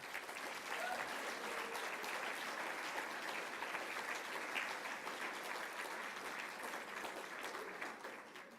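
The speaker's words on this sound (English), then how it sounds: "Another huge round of applause" At a homelessness media awards ceremony, the audience gives a sustained round of applause for an award winner, many hands clapping evenly and fairly softly for several seconds before easing off.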